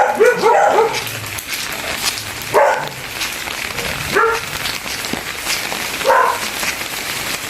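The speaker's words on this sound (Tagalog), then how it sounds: "nagtahulan ng mga aso" Dogs barking outdoors in a flood-hit barangay after a typhoon: a burst of several barks, then single barks at intervals of about two seconds, moderately near, over steady background noise.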